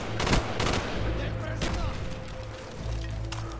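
Black Ops 1 multiplayer match with rapid gunfire bursts and grenade blasts crackling loudly and close, heavy at the start and continuing in bursts, with a player's voice over the top.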